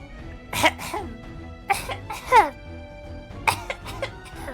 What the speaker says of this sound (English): I'll clear my throat.